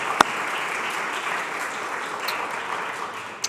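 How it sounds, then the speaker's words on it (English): A crowd gives a round of applause for the Philadelphia Youth Network, a sustained, even roar of many hands clapping, with a couple of sharp isolated claps near the start and end. "Can we please give Philadelphia Youth Network a big, big round of applause?"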